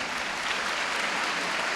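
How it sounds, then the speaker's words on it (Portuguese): A congregation at a Catholic diocesan gathering claps together in steady, dense applause that fills the space evenly from start to finish. "Vamos aplaudir essa palavra,"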